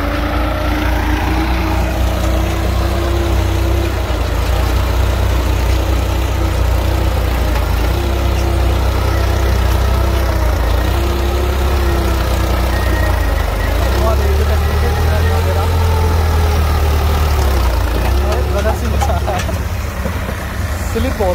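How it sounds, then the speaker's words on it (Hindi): A tractor engine running in high-range first gear with low tyre pressure, a loud steady diesel drone with slight rises and falls in pitch, someone talking over it. "हाई के पहले में परफॉर्मेंस देखो"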